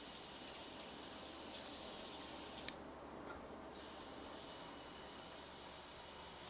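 Tap water runs steadily into a container being refilled in a home kitchen, a continuous close hiss with a single faint click partway through and no voices.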